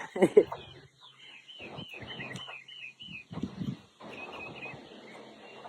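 Outdoors on a breezy morning, several short bird chirps and tweets rise from the background in small bursts, fairly faint and intermittent, alongside occasional nearby voices and rustling.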